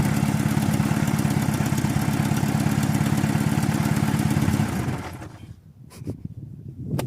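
A mini tractor engine converted from diesel to gas runs loudly with a steady, rapid chugging idle, then cuts out after about five seconds, leaving a few clanks and knocks.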